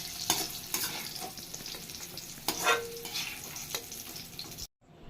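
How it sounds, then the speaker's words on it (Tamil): Bitter gourd pieces frying in oil in a pan, a continuous crackling sizzle with sharp scraping stirs of a spatula, close and fairly soft, ending abruptly in silence. "இப்போ இது நல்லா வறுபட்டுடுச்சு, நல்லா வதங்கி போச்சு பாருங்கள்."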